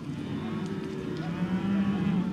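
Cattle on a Queensland cattle station give a long, low moo close by, drawn out and steady across the whole moment with no talk.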